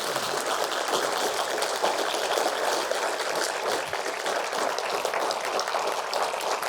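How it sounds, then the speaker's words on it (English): Audience at a symposium applauding invited guests, a broad, even hiss of many hands clapping together, sustained and steady at moderate distance with no break. "can we give our guests a massive round of applause?"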